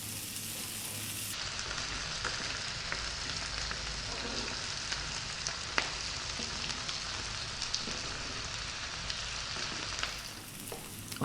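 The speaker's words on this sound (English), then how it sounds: "So high heat, going to cook these onions for about 4 minutes, stirring often." Onions sizzle and fry in a pan over high heat for dal tadka, a steady crackling hiss that stays even throughout, broken by occasional scrapes and knocks from stirring, close and with no talking.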